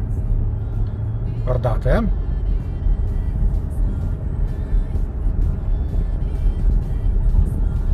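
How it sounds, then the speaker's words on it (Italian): A car with adaptive cruise control re-accelerates on a winding road, its engine and tire noise rumbling steadily from inside the cabin while someone speaks over it. "Ora l'auto comincia a riaccelerare."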